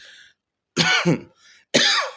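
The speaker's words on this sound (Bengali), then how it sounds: "আমার একটু কাশি হয়েছিল" Two sharp, close coughs with a throat-clearing quality, separated by a short pause, loud against near silence.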